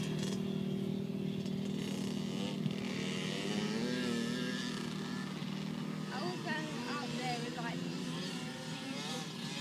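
A pit bike engine buzzes and revs on a track, its wavering drone rising and falling steadily throughout while people talk nearby over it.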